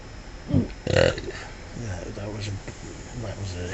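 A close, loud hiccup bursts into a short burp and is followed by a second gulping sound. A person then talks casually.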